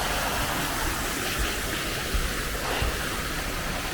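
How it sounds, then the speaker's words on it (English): A small waterfall feature at Blackpool Zoo rushes continuously, a broad, steady splashing hiss close by on a rainy day, with no pauses and no voices. "Got a little waterfall feature as well."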